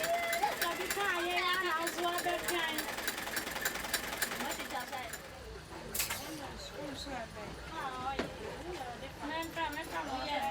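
Sewing machine running in a tailoring workshop in Ghana, its rapid mechanical stitching chatter steady through the first half, under a narrator's voice and other chatter, with birdsong in the background.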